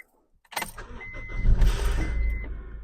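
A Honda Civic engine cranks briefly and catches after a spark plug replacement, then settles into a steady, loud idle close by, with a faint whine running over the rumble.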